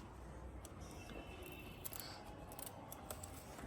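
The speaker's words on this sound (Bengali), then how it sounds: "এই দেখুন লাউটা আমি কাটছি" A bottle gourd is cut from its vine in a small rooftop garden. Faint crisp snips and small clicks come through light outdoor background noise, close but quiet, with no voices.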